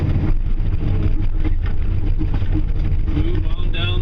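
An excavator engine runs loudly and steadily at close range while the machine digs and smears dirt, giving a constant low diesel rumble with slight rises in pitch.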